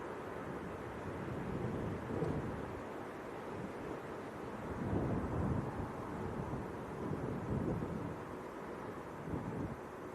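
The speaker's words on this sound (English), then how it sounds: "It's been blowing a gale." Strong, steady wind roars and buffets throughout at an airport, with broad rumbling gusts swelling and easing; no voices, just continuous blustery noise.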